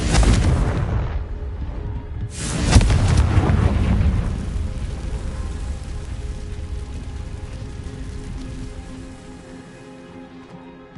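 A Confringo blasting spell in Hogwarts Legacy sets off a loud explosion: an opening burst, then a second heavy boom that rolls into long crackling debris and rumble, fading slowly over several seconds.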